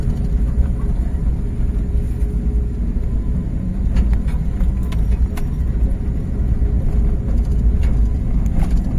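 Suzuki minivan driving along a narrow road on Polillo Island, with a steady, close engine rumble and road noise continuing throughout, alone and without talk.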